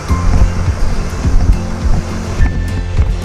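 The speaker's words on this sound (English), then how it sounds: "You can hear the waves coming by slowly." Small sea waves wash gently onto the shore in soft, continuous surges, loud and close, with a little breeze and no talking.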